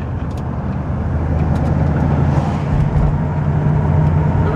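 An original 1968 Chevy Camaro RS with a 327 engine and two-speed Powerglide drones steadily while driving, a loud continuous low rumble heard from inside the car with no talking.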